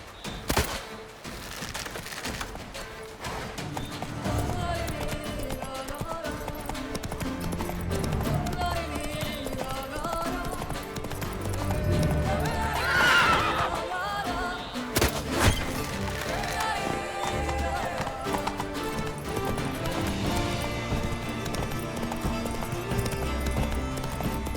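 A horse gallops in the Witcher 3 video game, its rapid hoofbeats drumming steadily under music for about 25 seconds, with a brief whinny and scattered sharp impacts around the middle.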